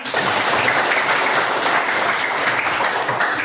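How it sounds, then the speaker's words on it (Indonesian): Students in a classroom give a burst of applause, a dense, fairly loud wash of clapping that holds steady for a few seconds. "Kasih tepuk tangan."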